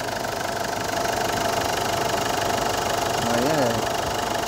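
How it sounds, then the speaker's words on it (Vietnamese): A 2009 Ford Ranger 2.5 diesel pickup engine idles steadily with a low, knocking rumble, close and fairly loud, with a brief rise in pitch near the end. "máy nổ cực giòn, toàn tiếng quen, không hề có tiếng lạ thế nào luôn"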